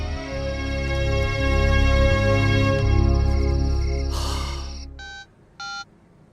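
A telephone ringing in a home, two short electronic ring bursts at the end after a sustained loud tonal musical drone fades out.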